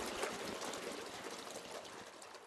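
Water flows steadily through a bronze and stone fountain sculpture at a regional hospital entrance, a continuous, fairly close splashing and trickling wash with no voices.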